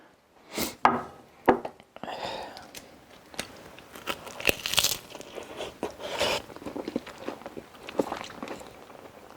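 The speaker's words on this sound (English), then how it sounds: "It's got a little bit of a crunch to it because it's thinner." Crunchy bites into a thin, sealed PSMF taco shell, sharp cracking crunches at first followed by quieter chewing and crackling, close and alone without talk.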